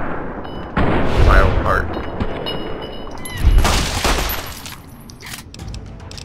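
Gunshots from the Fallout New Vegas game fighting geckos, a few sharp booming blasts with echoing tails, loud and close, heard beneath someone talking.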